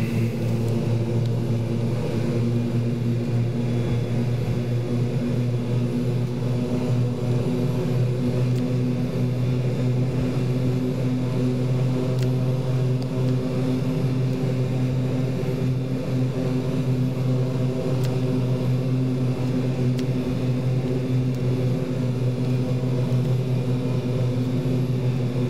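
Steady turboprop engine drone of a Super King Air B200 in a flight simulator during landing, a constant loud hum with strong low tonal bands and no clear change or talk throughout.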